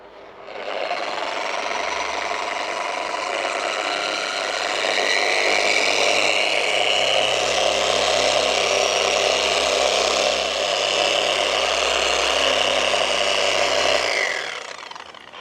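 A Meguiar's dual action polisher runs at speed 4 on car paint for a steady, loud, continuous whir and rubbing hiss that holds for about fourteen seconds before winding down, with no voices.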